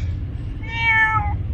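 A kitten meows once, close and clear, over a low background rumble outdoors by a river while being carried along for fishing.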